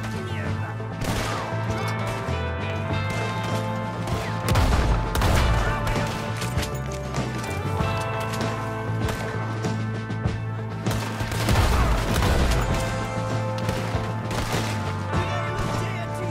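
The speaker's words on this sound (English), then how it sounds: "We got one shooting from the tower!" Gunfire in Red Dead Redemption 2 during the mission to rescue Sean, with a shooter firing from a tower: repeated sharp shots and bursts crack out irregularly over a continuous musical score.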